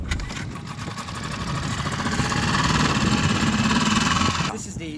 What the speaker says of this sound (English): testing out a series of outboard engines on our little inflatable here, starting with a Mariner model